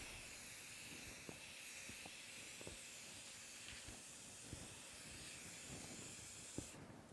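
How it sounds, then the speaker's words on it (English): Spray finish hisses steadily onto a small wood project, a long continuous spray close by, with faint clicks and knocks underneath. "I tend to spray kind of at an angle and try to get like the sides so I don't flood the top."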